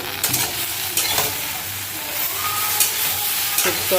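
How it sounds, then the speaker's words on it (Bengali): Banana stem and potato frying in a pan, a steady close sizzle with occasional stirring knocks and scrapes throughout. "কলা ডাঁটা ভাজা চলছে"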